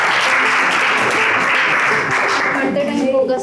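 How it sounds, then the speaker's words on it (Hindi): Students break into a loud, sustained burst of applause for a girl at an inter college gathering, dense clapping filling the room for several seconds before thinning slightly at the end. "वो तालियां तो बजाओ इस बच्ची के लिए।"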